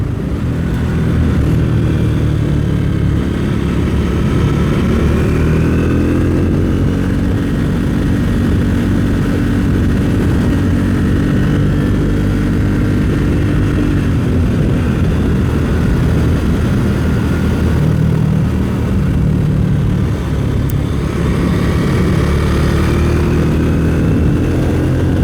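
A Triumph Speed 400 motorcycle cruises in sixth gear at about 55 mph and roughly 4,500 RPM, a loud, continuous engine drone mixed with heavy wind rush, heard close from the rider's position.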